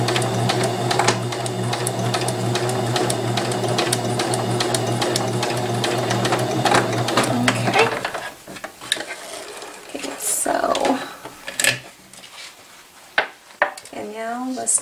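A sewing machine stitches a purse organizer insert with a steady, loud mechanical hum for about eight seconds, then stops, leaving softer handling noises and a voice speaking.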